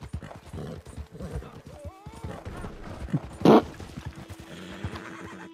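A horse in the video game Red Dead Online gives one loud, brief whinny partway through, set amid overlapping chatter from several players.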